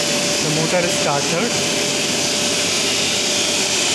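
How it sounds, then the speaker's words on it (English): DC series motor on a 230 volt supply, started with a 2-point starter, giving a loud continuous whine and hum with a steady tone throughout. "Then we are starting the DC series motor by means of 2-point starter. So the motor is started."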